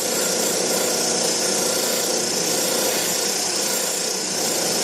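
A power sander works old, oxidised wood with 80-grit paper, giving a loud, continuous broadband rasping hiss that holds steady without pauses.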